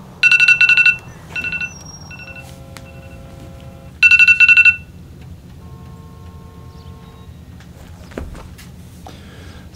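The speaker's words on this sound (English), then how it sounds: "Someone was trying to contact me on the phone." A telephone rings in the detective game LA Noire: two loud bursts of a trilling bell, separated by a pause, ringing over a low steady background rumble, with a few faint tones in between.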